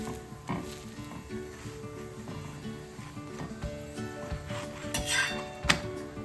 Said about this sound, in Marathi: पालट करून सर्व बाजूने व्यवस्थित आपण असं भाजून घेऊया